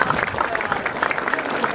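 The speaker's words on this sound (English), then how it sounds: "Round of applause." Brief applause at the Grissom Center dedication and opening, a short burst of clapping from a gathered group mixed with voices and a few cheers close by.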